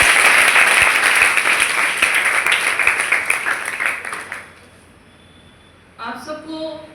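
Applause from an audience at a college NCC wing's World Habitat Day event, honouring first-year cadets; dense clapping fills the first four seconds, then fades out, and a voice begins speaking at the end.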